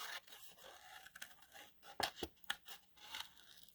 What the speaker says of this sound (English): And this is fairly easy to cut around, and I'm just leaving a little bit of an edge of the white